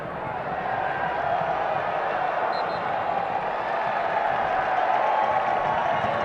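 Stadium crowd of about 13,500 at a Wednesday-night USL soccer match between New Mexico United and OKC Energy FC, applauding with a steady, broad wash of clapping and murmur that holds evenly throughout.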